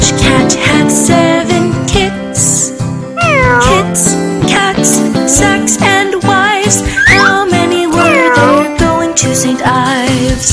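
Cats meow repeatedly, with several drawn-out, bending cries mixed into a loud, bright children's nursery-rhyme tune.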